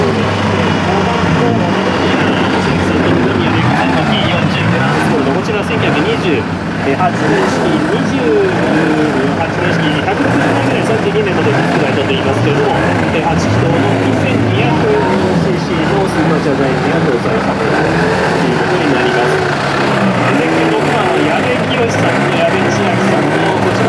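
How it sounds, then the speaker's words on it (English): Supercharged 1930s–40s Bugatti engines rev and run loudly at a classic car rally in Japan, a dense, continuous mechanical roar with rising and falling pitch sweeps that never lets up. "Not every day you hear a Bugatti motor."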